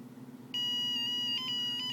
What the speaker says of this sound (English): outputs a tone using the piezo element at that pitch